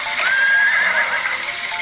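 A horse neighs in one sustained, wavering whinny that rises and trails off over a steady background, fairly loud and close.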